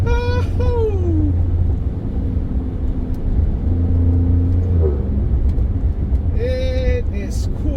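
A twin-turbo all-wheel-drive car accelerates hard, its loud engine tone climbing in pitch, dropping at shifts, then rising again over a steady road rumble. Excited voices talk over it.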